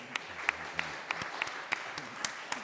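Sparse applause from a small audience at a documentary festival panel session at Manchester Metropolitan University, a handful of separate claps spread out and fairly faint in a quiet room.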